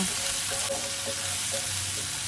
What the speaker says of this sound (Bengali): আদা বাটা, পেঁয়াজ বাটা এবং রসুন বাটা দিয়ে আমি কিছুক্ষণ ভেজে নিব।